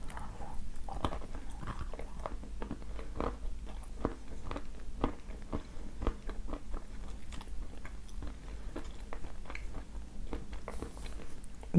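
Someone chews a piece of the coffee-flavoured Tatarskaya Roza variety, producing close, soft, irregular crunchy bites and mouth sounds that repeat steadily with no talking.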